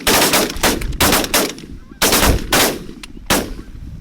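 Rapid shotgun blasts ring out during an early-season goose hunt, several loud sharp reports in quick bursts with echoing tails, a pause, then more shots close by.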